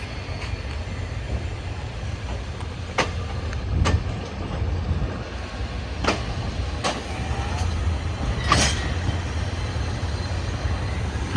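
Low rumbling of a Thai-built train rolling along, a steady heavy drone with several sharp clanks and squeaks scattered through it.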